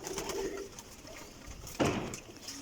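Champion racing pigeon chicks coo softly in a loft in Jhelum, a few low calls at close range with a louder burst near the end.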